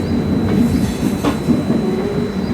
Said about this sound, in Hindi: तो वडोदरा से हमारी ट्रेन खुल गई है और अगला स्टॉप हमारा होने वाला है आनंद।